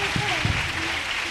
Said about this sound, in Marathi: त्यासाठी या बालकलाकारांचे टाळ्या वाजून जोरदार कौतुक करावे